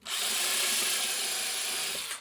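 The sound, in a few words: power drill driving screw into softer hardwood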